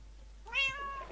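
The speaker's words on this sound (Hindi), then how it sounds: "वो बिल्ली है विच की" A witch's cat in a video game lets out a single short meow, clear and fairly close, with a rising then falling tone.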